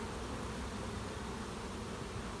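Honey bees buzz steadily around a hive super with brood during a honey harvest, a soft, continuous drone that stays even throughout with no voices.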